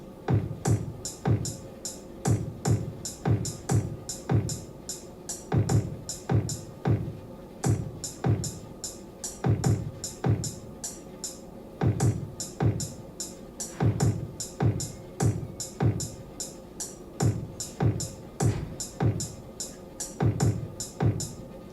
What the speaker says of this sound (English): add some more kicks in other places